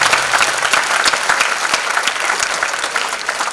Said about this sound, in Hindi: तो एक बार उनके लिए तालियां और बजनी चाहिए